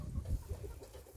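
Hens cluck softly in a short, low burst, somewhat distant and alone without talk.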